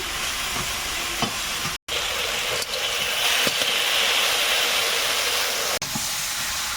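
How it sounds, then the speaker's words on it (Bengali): Okra fries slowly in a pan over low heat in a rural Sundarbans kitchen, giving a steady, soft sizzling hiss with occasional faint clicks and one brief dropout. "এদিকে ঢেঁড়সটা নিজের মতন আস্তে আস্তে ভাজা হচ্ছে এদিকে আঁচটা কম দেখেছি"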